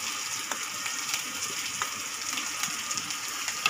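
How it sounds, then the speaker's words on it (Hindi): Onion and curry leaves frying in a pan, a steady close sizzle with a bright hiss and scattered small pops and crackles throughout, with no talking. "थोड़ी सी प्याज भून लेंगे।"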